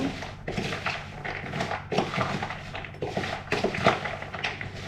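Peanuts being stirred with oil and paprika in a bowl, giving repeated scraping, rattling strokes of nuts and utensil against the bowl in an uneven rhythm, close and fairly loud.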